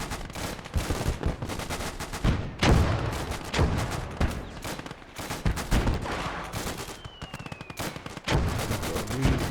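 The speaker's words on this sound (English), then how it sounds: "the enemy are getting pretty much shot to pieces in the centre of town there" Dense gunfire from the World War II strategy game Gates of Hell: rapid machine-gun bursts and rifle shots rattle almost nonstop, with heavier booms mixed in, loud and close throughout.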